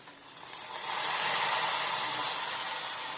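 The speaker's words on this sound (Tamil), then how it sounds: "நம்ம தாளிக்க போகிறோம்." Spices and curry leaves hit hot coconut oil for tempering, the sizzle surging into a loud, steady hiss that holds close by with no talking.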